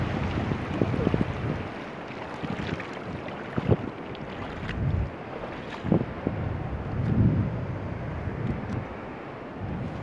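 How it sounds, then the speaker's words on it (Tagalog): Strong sea waves break on the shore at a park in Al Wajh, Tabuk, Saudi Arabia, heard as surging rumbles and crashes mixed with heavy wind buffeting the microphone, with occasional faint voices. "Dagat. Oh, malakas ang alon ah."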